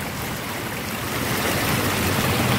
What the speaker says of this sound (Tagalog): Tubig galing sa bundok. Galing dyan sa taas.